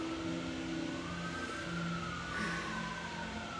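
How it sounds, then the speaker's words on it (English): Distant emergency sirens wail with a slowly rising and falling pitch, steady and fairly faint beneath a constant background wash. "Sirens are going on."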